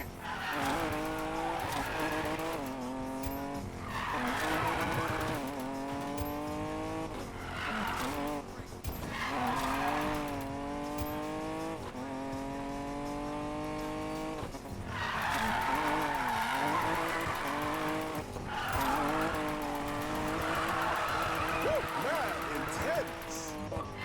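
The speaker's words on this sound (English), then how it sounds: "That was a sexy drift." A car drifting in the Need for Speed Payback video game, with long sustained tire squeal and skidding over a droning engine that rises and falls in pitch, loud and continuous throughout.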